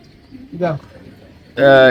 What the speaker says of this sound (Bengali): আজকে একটা অতিথি কবুতর কোন কবুতরটা ছেড়ে দিচ্ছি